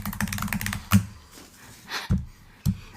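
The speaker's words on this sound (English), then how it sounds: "Yeah, I'm typing it in." Fingers tap on a computer keyboard in uneven bursts of clicks, with a few heavier key strikes standing out, close and fairly quiet with no talking.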